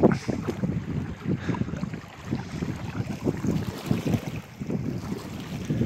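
A boat out on 11 Mile Reservoir, a deep dammed lake, with steady wind buffeting the microphone and water lapping and rumbling low beneath it throughout.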